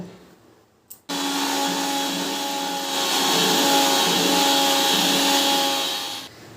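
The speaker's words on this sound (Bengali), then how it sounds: "এবার মিক্সির জারটা আটকিয়ে দিচ্ছি, দিয়ে এবার আমি পেস্ট করে নেব" An electric mixer grinder whirs loudly as it blends a paste without water, starting abruptly after a brief click, holding a steady high-pitched motor drone with a slight swell, then cutting off near the end.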